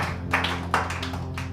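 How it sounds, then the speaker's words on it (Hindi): An audience at a church Christmas celebration claps to welcome a speaker, several distinct bursts of applause at close range in a short, uneven rhythm. "तालियां बजाकर उनको स्वागत करें"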